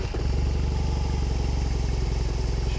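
A BMW R18 motorcycle engine catches and settles into a steady, loud, throbbing idle with a rhythmic low pulse, heard up close.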